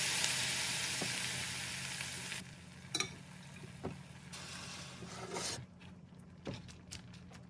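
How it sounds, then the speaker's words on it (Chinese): Shrimp heads and shells with ginger slices sizzle loudly in hot oil in a pot, a steady close frying hiss broken by a few scraping stirs and light clinks. "将虾头虾壳倒入锅中， 炒至变色"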